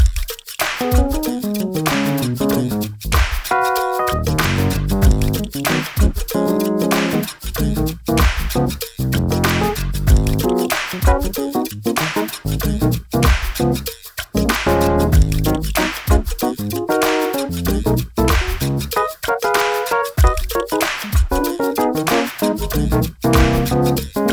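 A dense hip-hop beat loops continuously with punchy drums, heavy bass and layered melodic samples, loud and steady throughout with no talking.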